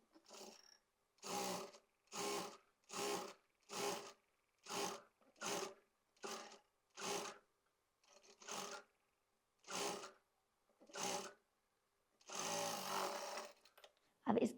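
Domestic sewing machine stitching sleeves onto a sweater, a run of short, evenly spaced bursts of mechanical whirring with quiet gaps between them and a longer burst near the end, close and without talk.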